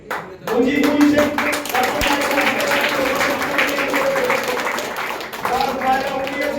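Audience clapping at a pigeon club prize distribution, a steady burst of applause lasting several seconds under a loud amplified announcer's voice speaking throughout.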